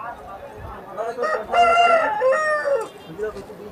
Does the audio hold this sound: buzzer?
no